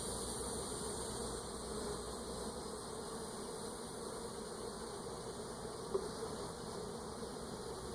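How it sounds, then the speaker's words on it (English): Honey bees hum in a crowded hive box as a frame is lifted out, a dense, steady buzz that holds evenly throughout, with one brief click near the end. "there's a lot of bees in this box"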